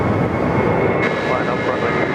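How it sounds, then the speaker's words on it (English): An Airbus A330-200 airliner roars overhead on approach at Sydney Airport, a loud continuous engine rush heard alongside talking. "here comes our Tianjin, A330-200, over the keys here, 3-4 left"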